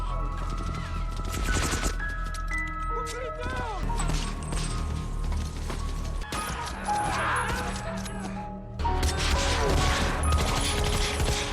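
Close-range gunfire rattles in a war film battle between American and Japanese soldiers, with bursts of shots, crashes and mechanical clatter in dense layered sequences, fairly quiet overall and mixed with narration-level voice.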